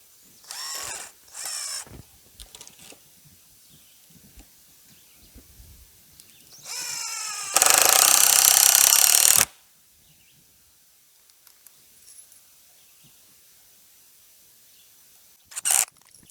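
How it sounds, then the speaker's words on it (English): A DeWalt cordless drill drives screws into wood while building a chicken tractor, with short whirring bursts, then one long loud run of a couple of seconds, and another brief burst near the end, separated by quiet handling noises. "So we'll just take our trusty DeWalt saw drill,"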